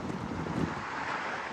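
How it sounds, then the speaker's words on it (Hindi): Strong outdoor wind: a loud, steady wash of broadband rush and microphone buffeting, with leaves rustling and flags flapping on a gusty but mild day. "कितनी ज़बरदस्त पत्तों की आवाज़ें आ रही हैं हवा से चलने की"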